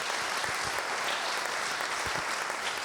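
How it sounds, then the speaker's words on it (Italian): Audience applause at a television show on traditional dances and folk culture of central Sardinia, a continuous, dense wash of many hands clapping, fairly distant and even throughout. "questo applauso è ancora per voi"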